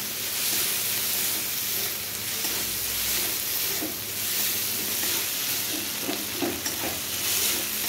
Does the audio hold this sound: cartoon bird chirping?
no